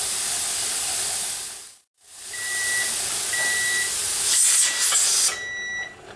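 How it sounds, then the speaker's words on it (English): Pressure canner processing bone broth hisses steadily, broken by a brief silent gap, then a timer beeps in short repeated tones near the end over the continuing steam hiss. "as soon as the timer goes off, which will be any second now"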